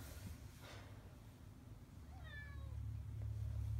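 A domestic cat gives a single short, clear meow at close range against a low, steady background hum.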